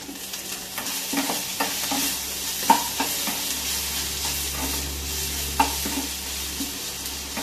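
Ginger fries in a pan for a Kerala Onam sadya dish, a steady sizzle with a low hum under it, broken by spoon stirs and scrapes against the pan, close and without speech.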